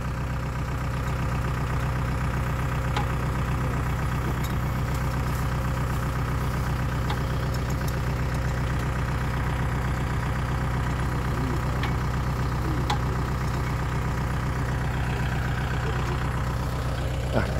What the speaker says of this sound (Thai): ตอนนี้กำลังเตรียมรถไถนะครับจะเอาไปทุ่งนานะครับ